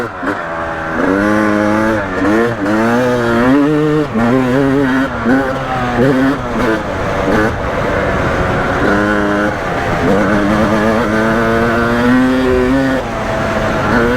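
A Yamaha YZ250 two-stroke dirt bike revs hard while being ridden off-road, its loud, rising and falling engine note continuous and close with quick throttle blips throughout.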